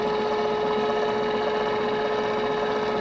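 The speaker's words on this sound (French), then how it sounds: "On fait tourner le moteur." A Unicum motor runs with a steady, even electric hum and whine, constant in level with no pauses, close and alone.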